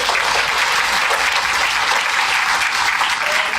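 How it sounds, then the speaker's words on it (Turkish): Steady applause from an audience at a Quantum Drama practitioner training event, dense and continuous throughout, with no speech over it. "Ayrıca Ersal'a ayrı bir alkış rica edeceğim."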